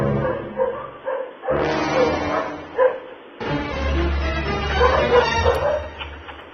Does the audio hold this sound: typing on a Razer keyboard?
no